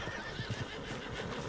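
A horse neighs and whinnies in the Red Dead Redemption 2 video game, with a short run of clip-clopping hooves under the call, all fairly close and fully audible.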